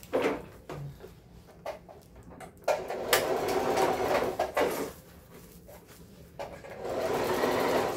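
A sewing machine stitches the panels of a waterproof thermal lunch bag together, running in close, loud bursts of rapid needle chatter separated by short pauses.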